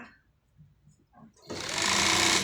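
A sewing machine stitches elastic into trousers in a garment-making workshop. After quiet low sounds, the motor starts abruptly and runs loud and steady without a break.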